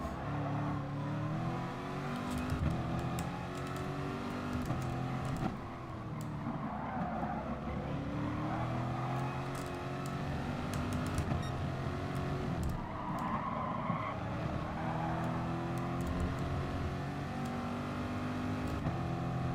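A race car engine in the Gran Turismo Sport video game drones and revs continuously through a daily race, with pitch rising and falling through gear changes and corners, steady and moderately loud throughout.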